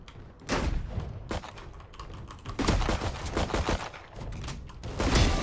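Video game gunfire crackles in rapid, dense bursts of close, loud shots, stopping and starting several times over a few seconds, with no speech.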